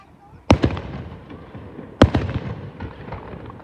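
Canada Day fireworks burst in two loud, sharp booms about a second and a half apart, each trailing into echoing crackles across an open outdoor space.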